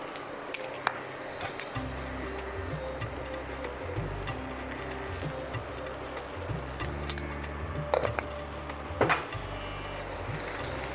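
Tender ridge gourd being sautéed in a pan, with steady clinks and scrapes of a utensil against the pan and soft sizzling, close and fairly quiet, with no talking.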